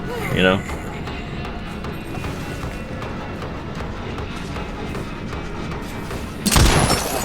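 Deathslinger harpoon gun shots in the Dead by Daylight video game, a short sharp blast near the start and another louder burst near the end over steady game ambience.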